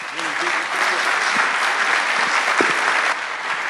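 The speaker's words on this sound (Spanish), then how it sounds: "Un aplauso para Juan." Loud, sustained applause from a conference audience honoring Juan Grompone at an award session, a thick wash of many hands clapping close and steady, with faint voices beneath.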